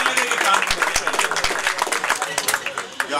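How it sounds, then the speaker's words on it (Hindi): An audience at a poetry gathering breaks into applause for a couplet, a dense burst of claps mixed with crowd murmur and a few sharp, loud individual claps. "जरा तालियां हो जाएं"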